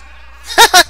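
Two short, loud sheep bleats from an Xbox demo disc video game, one right after the other, following a quiet moment with a low hum.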